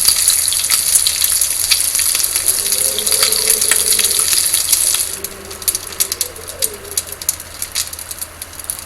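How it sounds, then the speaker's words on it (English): Venison sizzles over a campfire in the survival game The Long Dark, a steady hiss with bird calls and cooing mixed in. The sound thins out abruptly partway through. "To cook up some venison here from the deer that we got"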